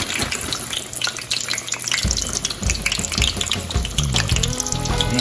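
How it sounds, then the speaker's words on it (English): Pork ribs dropped into a pot of grease that is not quite hot enough, crackling and sizzling in a steady wet frying hiss, with clatter near the start and a denser bubbling burst after about two seconds. "I'll take my rib and then just drop it down in that grease."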